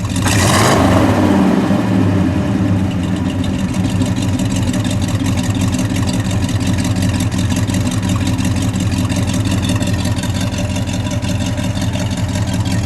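A 1963 Studebaker Gran Turismo GT Hawk with an R2 engine and a Simmons exhaust gives one sharp rev at the start. It then settles into a loud, steady, throbbing idle heard up close for the rest of the stretch.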